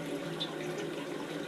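A Japanese toilet tank refills through the small hand-washing sink on its lid, a steady close trickle and hiss of running water that continues evenly throughout.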